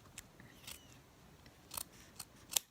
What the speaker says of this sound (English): if you just turn your felt over and snip at